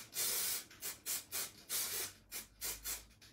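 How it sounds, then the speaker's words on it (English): Gold marble spray paint sprayed from an aerosol can onto fabric cushion covers, coming as a series of about seven close, loud hissing bursts of varying length separated by short pauses. "I'm going to go in with my gold marble spray"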